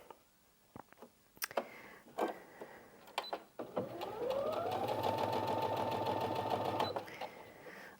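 A Brother Inventio NV1350 sewing machine runs decorative stitch 95, a steady mechanical whirr with rapid needle ticking for about three seconds after a few clicks of button presses.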